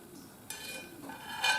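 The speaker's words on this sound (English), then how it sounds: "just test the meat with a fork and sort of break it up to see if it's done yet" A fork scrapes and clinks against a pan while breaking up cooked squab meat, with soft metallic taps and a faint sizzle close by.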